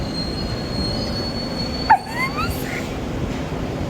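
A train arrives with a steady rumbling wheel noise, a thin high metallic wheel squeal running through, and a brief louder screech and clank near the middle; no talk.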